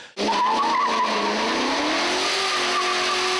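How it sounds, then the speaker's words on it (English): A car does burnouts at the Taupo track. A loud, sustained tyre squeal starts abruptly and rides over a roaring engine, with the pitch wavering and sliding, close and continuous. "while he does a few burnouts"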